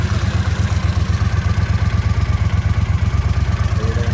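Motorcycle engine with freshly rebuilt, balanced carburetors idles steadily and close, a loud even low-pitched putter with a regular pulsing beat throughout and no talking.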